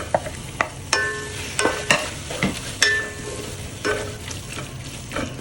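Tomatoes stirred in a hot pan with fried ginger and garlic: a steady sizzle under repeated sharp scrapes and clinks of a spoon against the pan, about a dozen irregular strokes, close and clear with no talking.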